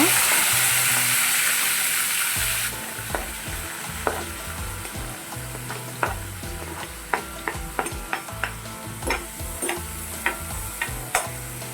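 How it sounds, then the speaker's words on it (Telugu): Chopped onions, green chillies and curry leaves frying in hot oil give a steady, close sizzle, with a sharper burst at the start and then a series of light, irregular ticks and scrapes from stirring. "అదే ఆయిల్లోని ముందుగా మనం కోసి పెట్టుకున్న ఉల్లిపాయలు, పచ్చిమిరపకాయలు, కరివేపాకు వేసుకోవాలి"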